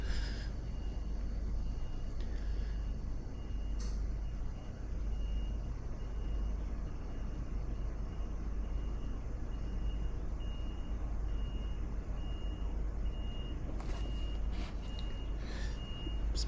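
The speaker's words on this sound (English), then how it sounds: "Truck beeping out the front." A low, steady engine rumble fills the background while faint, evenly spaced reversing beeps sound intermittently from a truck some distance away.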